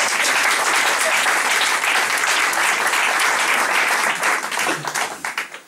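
Audience applause at a book presentation, a dense, loud burst of many hands clapping that sustains evenly before thinning and tapering off toward the end.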